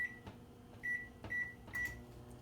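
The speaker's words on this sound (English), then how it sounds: "we're going to go ahead and pop this into the microwave and heat it up for about 30 to 40 seconds" A microwave oven heats s'mores bar ingredients, its low hum running under a repeated series of short, sharp beeps spaced about half a second apart, close and clear with no talking.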